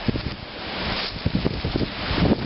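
Gusty outdoor wind buffeting the microphone, a steady broadband rush with low thumping gusts that swell and fade over a couple of seconds, no voices.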